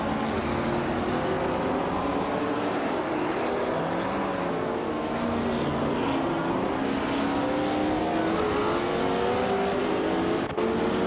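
Several race car engines in a racing video game whine and climb in pitch together as they accelerate, a dense, loud, continuous roar with overlapping rising tones and no voices.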